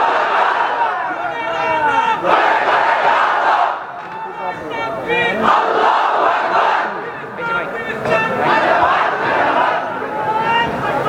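A large crowd at a Bengali Islamic religious gathering (mahfil) chants the takbir in loud, rhythmic unison, roaring back in repeated waves that fill the whole space.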